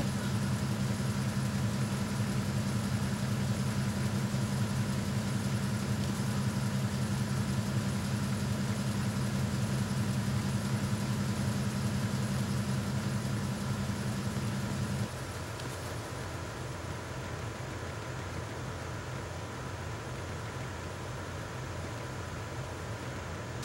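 Steady low machinery hum of an engine room in Metal Gear Solid 2, a constant droning bed that drops to a quieter, thinner level partway through, with no voices.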